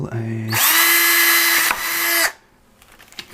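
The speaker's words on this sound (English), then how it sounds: "take a drill," A power drill boring a 4mm hole runs in one sustained, loud, steady whine for about two seconds, with a brief dip midway, then stops abruptly.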